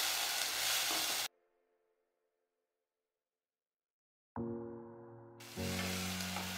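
Tomato puree sizzling in a pan while being stirred for palak paneer: a loud burst of sizzle, a long silent gap, then the hiss and frying return.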